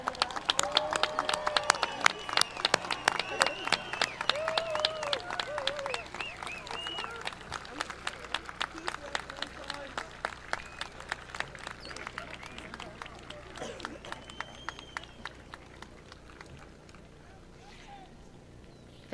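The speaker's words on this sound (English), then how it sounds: "let's give our longest, loudest applause ever" Graduation ceremony crowd clapping at Mt. Hope, starting as dense, loud applause and gradually thinning into scattered, fading individual claps.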